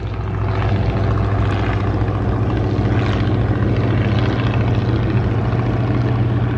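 A Waco UPF-7 biplane flies by at an airshow, its propeller engine droning loud and steady throughout with a broad continuous rumble.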